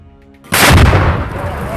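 Rocket fire in combat in Gaza: a sudden loud, broadband blast bursts in after a quiet moment and rolls on as a rough, roaring rumble, close and dominant.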